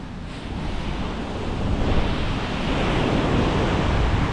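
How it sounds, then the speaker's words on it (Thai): Strong surf breaking on a beach in Bali, a steady broadband roar of heavy waves with wind noise on the microphone, swelling slightly louder partway through and continuing without pause. "นี่ทะเลบาหลีก็คลื่นแรงอยู่นะ"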